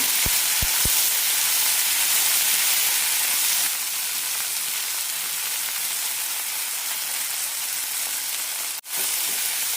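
Tomatoes sauté in a frying pan for an onion kurma, giving a loud, steady sizzling hiss throughout, with a few soft clicks at the start and a brief dip near the end.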